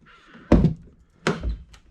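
Two solid thunks of a Dodge Neon SRT-4 car door being shut, spaced under a second apart, close by with brief rattles after each.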